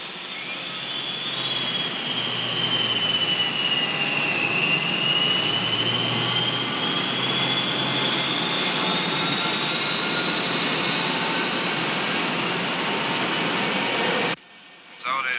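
A jet airliner's engines roar at takeoff power, a steady loud rumble with a rising and shifting whine, sustained throughout before cutting off abruptly near the end; a voice is faintly present beneath.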